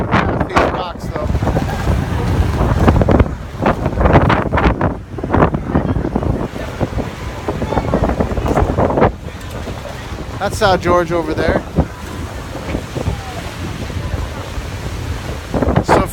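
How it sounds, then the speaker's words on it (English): Strong wind buffets the microphone over a steady wash of waves as a boat crosses between Faial and Pico in the Azores, heading into Madalena port; someone speaks briefly over the constant roar. "now that we're coming into port in Madalena, the winds are a little bit calmer"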